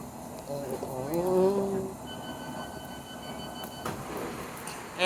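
A London Underground Metropolitan line train rumbles along at close range, with a rising whine and squeal from the wheels and motors. Muffled talk can be heard beneath the noise.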